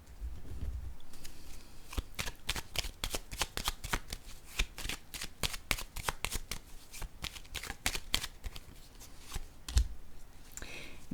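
Playing cards shuffled for a tarot-style card reading, a long run of fast, crisp riffling clicks and flutters, close and fairly loud, with no talking over them.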